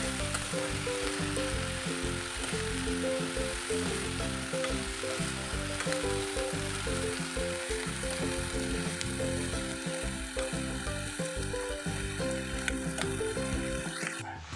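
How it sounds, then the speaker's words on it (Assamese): Chopped taro and a potato being stirred in a pan, a steady sizzle with repeated scraping and clacking from the stirring, continuous and fairly quiet, with an underlying hum. "এতিয়া খুব সুন্দৰকৈ লৰাই ল'ব।"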